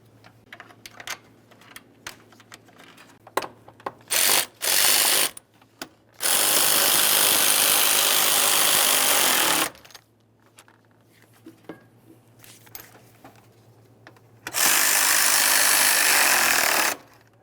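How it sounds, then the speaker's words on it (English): Mounting screws on a radiator fan assembly being run in and snugged on a 2015-2020 Ford F-150 3.5L V6, in bursts of power-driver whirring with light clicks and taps between them, close up and without talk. "continue on with your 2 mounting screws up along the top. Start them in, snug them up."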